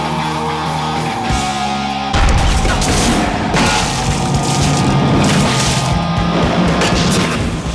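Practical stunt car crashes and explosions from the Death Race film, a dense barrage of heavy booms and smashing impacts that roars continuously, loud and close, with no pauses.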